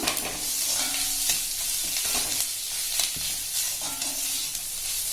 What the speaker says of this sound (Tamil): சேர்த்து நல்லா வதக்கிக்கலாங்க. இது உதிரியா வரணும், அந்த அளவுக்கு நம்ம வதக்கிக்கணும்.